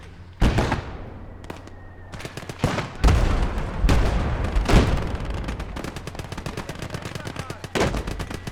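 Howitzer artillery fire in the World War II strategy game Gates of Hell, heavy booming blasts mixed with rapid bursts of gunfire and scattered shots, loud and irregular.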